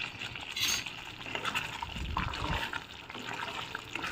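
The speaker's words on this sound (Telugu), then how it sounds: "ఇలా బాగా దగ్గరికి రావాలి, కలుపుతూనే ఉండండి." A thickening coconut milk mixture is stirred in a pan for a coconut sweet, heard as close, fairly soft scraping and swishing of the spoon with gentle bubbling and a faint wet sizzle beneath.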